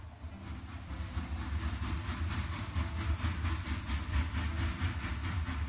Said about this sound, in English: Nice clip art of a train there.